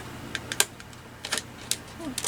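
Scissors snipping through card paper while trimming a Rolodex card: a few short, crisp cuts in an uneven rhythm, close and fairly quiet.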